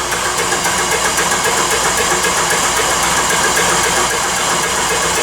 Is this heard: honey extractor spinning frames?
yes